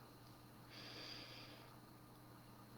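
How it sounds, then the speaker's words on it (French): A single slow, deep inhalation through the nose, about a second long, faint and close against a quiet hum during a relaxation exercise. "J'inspire profondément."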